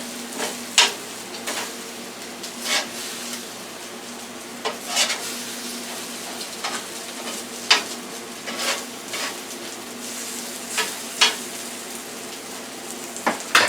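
Hash browns and eggs frying on a grill, a steady close sizzle broken by irregular sharp scraping and tapping from a spatula flipping the food, with no talking.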